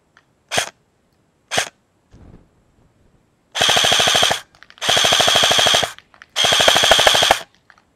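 A Black Rain Ordnance M4 airsoft rifle fires on a range, first two single shots, then three loud rapid bursts of full-auto fire, each about a second long, crisp and close.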